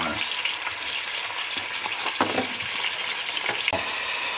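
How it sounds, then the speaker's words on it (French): Onion, garlic and meat rolls sizzle steadily in a casserole pot, a close, continuous frying hiss broken by a few light stirring clicks and scrapes, with no talking. "Mon oignon et mon ail pour les faire revenir un peu. Je rajoute aussi mes alouettes."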